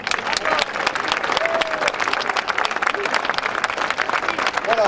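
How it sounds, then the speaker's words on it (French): A live audience gives a Provençal folk group, Lou Grihet, a loud, sustained round of applause at the Musique du Monde 2019 event: dense, even clapping that fills the whole stretch, with faint crowd voices underneath. "Donc je vous demande de les applaudir tous très fort."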